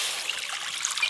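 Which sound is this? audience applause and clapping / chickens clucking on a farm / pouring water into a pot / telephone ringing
pouring water into a pot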